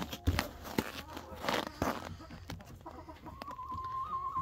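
Roosters cluck in a coop after a snowstorm, with short close clucks and soft scattered calls among rustling and handling noises, ending in a thin sustained tone.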